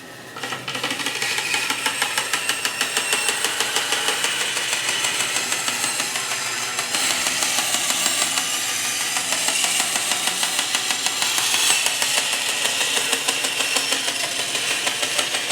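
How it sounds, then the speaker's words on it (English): A bandsaw slices through a plastic pipe, a loud, continuous high-pitched buzzing with a rapid regular rasp, steady for the whole stretch apart from a brief dip midway. "I can take my bandsaw and cut it, or like I said, you can use also a hacksaw to just cut the pipe in half"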